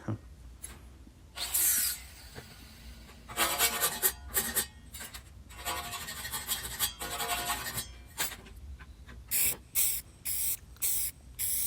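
Aerosol spray paint hisses onto a plasma-cut steel bull skull in several bursts of varying length, some long and others short and rapid, close to the microphone with quiet gaps between.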